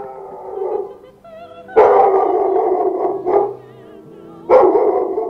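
Dogs bark and howl in loud, close bursts, with a drawn-out howling tone first, then two sharp barking outbursts separated by a short lull.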